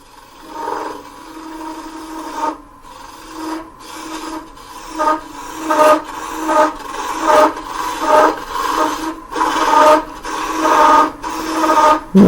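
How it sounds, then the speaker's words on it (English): A bowl gouge cuts a wooden handle spinning on a lathe, giving a rhythmic, rasping scrape that swells and fades in repeated strokes, loud and close with no talking. "I call this a kind of a plunge cut. I'm using a bowl gouge for this part."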